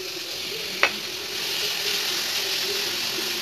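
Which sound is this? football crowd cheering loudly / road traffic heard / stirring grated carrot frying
stirring grated carrot frying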